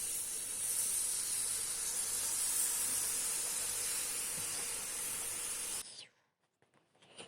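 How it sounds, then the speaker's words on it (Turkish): A steady, bright hiss and sizzle of cold syrup pouring onto hot baklava, continuous for several seconds, then cutting off to near silence with faint small clatters. "sıcak tatlıya soğuk şerbeti gezdiriyoruz"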